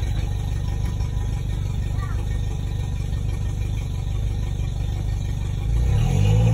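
A 2013 South Bay 522 CR pontoon boat's outboard engine runs steadily in forward gear, a low continuous hum and rumble that swells louder and deeper near the end.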